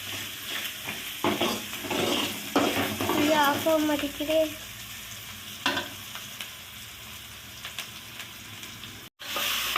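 Onions sizzle and hiss in a hot pan while a spoon scrapes and stirs them, with brief clatters; the frying dies down toward the end.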